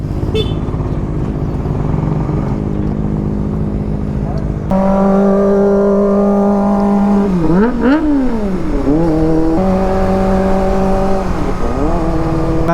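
Several motorcycles, a Suzuki Gixxer 155, a Suzuki Smash and a Kawasaki Ninja, rev and pull away close by, engine pitch rising and falling through gear changes, with a horn toot and voices in the background.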